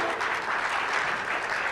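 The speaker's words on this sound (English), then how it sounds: "And round of applause." Audience applause at a Mangrove Jeopardy Challenge quiz event as a contestant from Demerara is introduced: dense, steady clapping from a crowd, even and sustained throughout.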